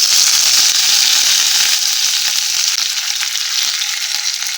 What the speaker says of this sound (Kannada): ಈ ಕರಿಬೇವಿನ ಸೊಪ್ಪು ಹಾಕ್ಕೊಳ್ತಾ ಇದ್ದೀನಿ.